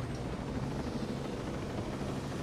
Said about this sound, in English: Where's my helicopter?